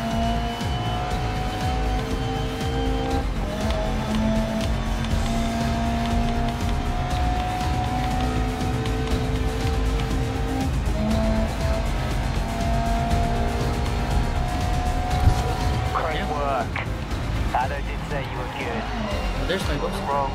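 Game engine of a GT race car in GRID Legends drifting on track, with a steady loud drone and scattered tire squeal near the end, under continuous talk.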